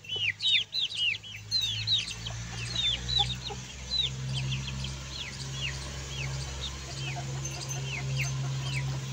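Aseel hens cluck and chirp in short repeated bursts over a steady low hum, fairly close, with no talking.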